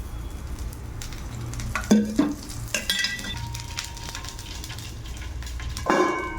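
Raw banana dosa frying in oil on a pan, a soft steady sizzle with a few louder clinks and scrapes of a utensil against the pan.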